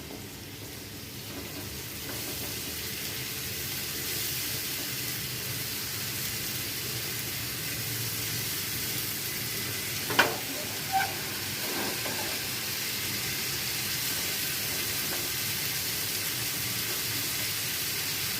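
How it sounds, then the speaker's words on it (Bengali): Ginger and garlic paste sautéing in a pan for a Bengali-style mixed vegetable khichdi, giving a steady, close sizzle and hiss throughout, with a couple of brief clinks near the middle. "আদা রসুনটা কষানো হয়ে গেছে।"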